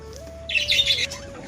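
Pet pigeons, including a young bird with a cold, let out a short burst of thin, high squeaky chirps at close range over a faint steady whistle-like tone, with a quiet pause before and after.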